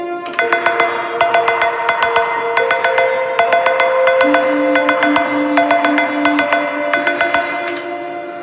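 A Machinedrum cowbell, pitched to fit the track and played through an Octatrack, rings out in a steady repeating pattern of bright metallic hits over a sustained tonal backing.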